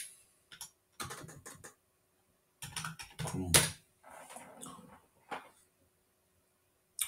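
Computer keyboard typing on a PC or laptop, nearby clicking keystrokes in short irregular bursts separated by brief pauses.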